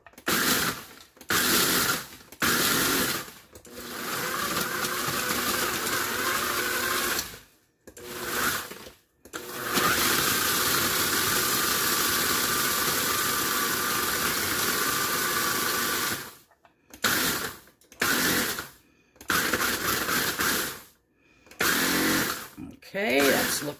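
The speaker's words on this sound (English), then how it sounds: "I'm just going to blend these up" A food processor grinds graham crackers into crumbs in loud, close pulses of whirring and rattling, separated by brief silent gaps, with one longer continuous run in the middle.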